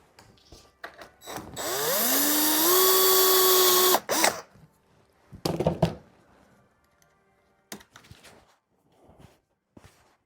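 A power drill whines up loudly for about two seconds while drilling pilot holes in wood, its pitch rising as it bites, followed by clunks, taps and shuffling movement.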